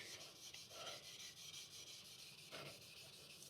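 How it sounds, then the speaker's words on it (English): Steel wool soaked in alcohol scrubbed against a rusty metal hand tool, a faint continuous rasping rub with slight back-and-forth swells. "steel wool with alcohol."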